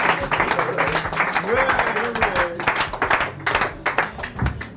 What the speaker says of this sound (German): Applaus für Günter Grass.